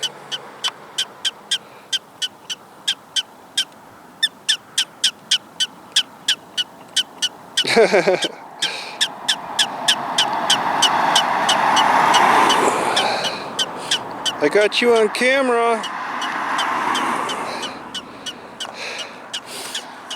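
Sharp, high alarm chirps repeat in a fast, steady series outdoors, then stop as people begin talking nearby, with occasional squeaks under the voices.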